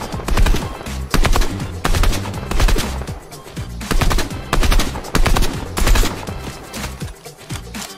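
Enemy gunfire in a solo arena shooter game, sustained bursts of automatic weapon fire repeating in loud, rapid volleys with brief gaps between them, close and dominant with no voices over it.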